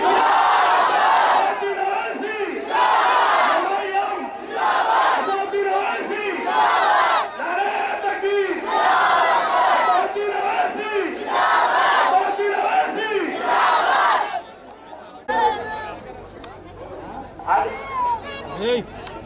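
A political rally crowd of Majlis-e-Ittehadul Muslimeen supporters roars a chant back in repeated loud bursts, each shouted response followed by a brief pause, with crowd babble underneath.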